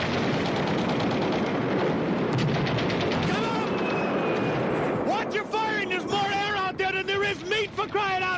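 Dense rattling gunfire and blasts as a staged sound effect in a wartime radio drama, loud and continuous throughout, with shouting voices breaking in over the barrage in the second half.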